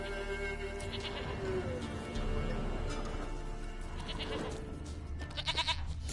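A goat bleating in a video game, brief wavering bleats rising out of a busy layered background of ambient game noise and music.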